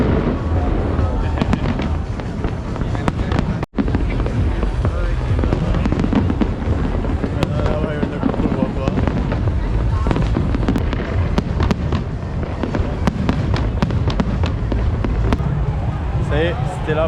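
Fireworks at a Tết celebration in Saigon crackle and pop densely and continuously, many sharp bursts layered over crowd noise, with people talking nearby throughout.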